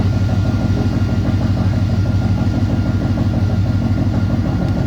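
A 1968 Pontiac engine fitted with Holley Sniper fuel injection idles steadily and loudly, its low rumble pulsing evenly and alone, with a faint hint of a slight hunt in the idle.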